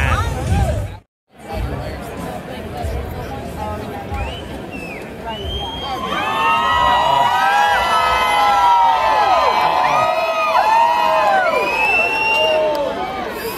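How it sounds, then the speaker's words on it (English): A large rock-show crowd screams and cheers in overlapping high-pitched shrieks that swell and hold for several seconds, following a noisy stretch of murmuring chatter. "People screaming for no reason."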